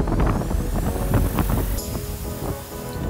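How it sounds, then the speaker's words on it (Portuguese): Strong wind buffets the microphone on an airport apron on Terceira Island in the Azores, producing a constant low rumble and roar, with a faint whistle and no speech. "Estava ventando tanto que mal dava para gravar para vocês"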